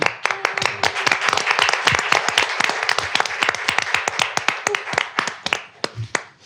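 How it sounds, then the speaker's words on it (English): Audience at a community college board of trustees meeting claps, distinct sharp claps from a small group, loud and close, thinning toward the end. "Well deserving of that applause."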